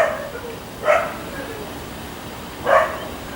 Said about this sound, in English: There's some people walking their dogs.